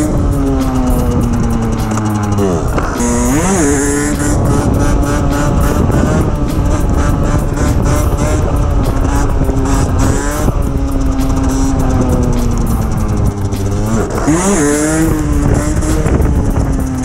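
A Derbi Senda 50cc motorcycle doing wheelies roars loudly and close, its two-stroke engine revving up and down repeatedly, with a scraping license plate adding a gritty rasp in bursts.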